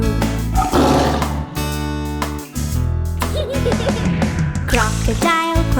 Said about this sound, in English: Lion, the king of the jungle, where are you? Roar, roar,